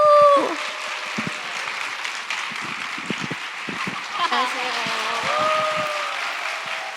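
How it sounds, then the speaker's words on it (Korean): An audience claps for a couple being welcomed on stage at a church event, steady moderate applause with a brief cheer at the start and voices mixed in. "다시 한번 두 분을 뜨거운 박수로 모셔보도록 하겠습니다"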